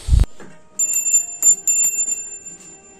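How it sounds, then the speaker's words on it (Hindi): A small prayer bell rings several times in quick, uneven strikes during home worship, bright metallic tones shimmering and lingering after a brief thump at the start. "घंटी बजा के दिखा दो सबको"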